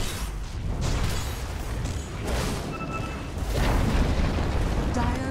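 A Dota 2 tower collapses in a series of heavy rumbling booms and crumbling blasts, loud and rolling in waves over in-game ambience, with a faint voiced announcer line mixed in.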